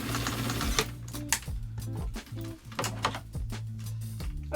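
A sewing machine stitching the side seams of a top, running in short uneven bursts with rapid mechanical whirring and brief stops between runs, close and clear.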